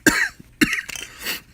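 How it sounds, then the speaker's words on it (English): Two sharp, close coughs from one person, the second following about half a second later, with a breathy rasp and a faint throat sound afterward. "Sorry about the cough."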